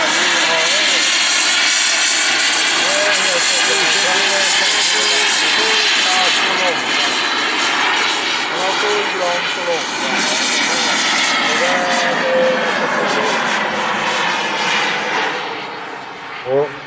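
Model jet aircraft engines, a pair each giving 19 kg of thrust, roar steadily and loudly at an air show, a sustained broadband whine that swells and fades slightly toward the end, with commentary heard over it.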